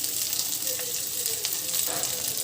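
Chicken pulao masala frying in a pan makes a continuous close sizzle with soft stirring scrapes and brief bubbling spurts, with no talk over it.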